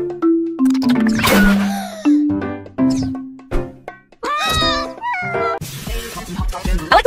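A cartoonish game cat in Poppy Playtime meows repeatedly, loud and close, in a string of drawn-out, wavering calls with short pauses and a couple of higher yowls toward the end.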